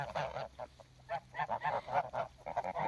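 Domestic geese honk in a series of short, nasal calls close by, a busy flock sound with brief pauses between bursts.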